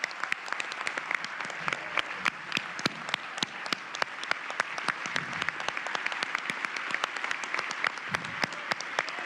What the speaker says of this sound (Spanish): Yo propongo un fuerte aplauso para ese compañero